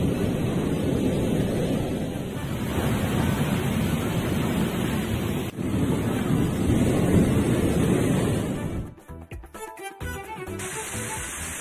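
Rough, storm-driven sea surf pounds the Kanyakumari coast in a steady, loud broadband roar, with wind buffeting the microphone throughout and a sudden drop and crackle near the end.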